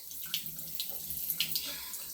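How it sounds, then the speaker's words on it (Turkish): Water runs from a tap into a sink while someone washes their face, a close splashing and trickling flow with faint voices in the background. "Of ben de yüzümü yıkayayım"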